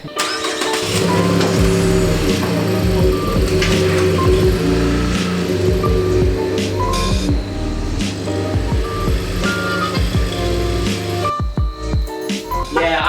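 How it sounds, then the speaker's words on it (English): A truck's engine turns over and idles loudly, rumbling steadily throughout, with a few faint beeps as the truck is moved. "I need to move the truck out of the way."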